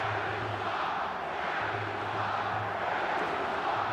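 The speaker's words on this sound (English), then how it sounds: "That ignites the crowd." Stadium crowd roars steadily at a snowy Canadian Premier League final between Atlético Ottawa and Cavalry FC, a broad continuous wash of cheering heard from a distance with no clear breaks.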